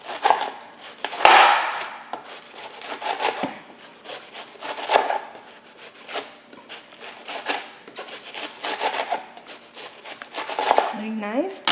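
A knife slices cabbage into thin shreds for a ginger cabbage thoran, giving repeated close, crisp chopping strokes on a board in an uneven rhythm, with a brief scraping sound near the end.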